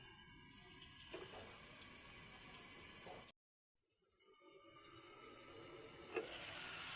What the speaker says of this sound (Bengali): কষানো হয়ে গেছে, পানি দিচ্ছি।